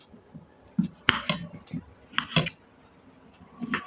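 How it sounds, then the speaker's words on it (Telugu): Chunky pieces of potato and carrot drop into a metal pressure cooker, giving several close, sharp clinks and soft thuds in uneven bursts, with faint talk in the background. "కుక్కర్ తీసుకొని కుక్కర్లో వేస్తున్నాను"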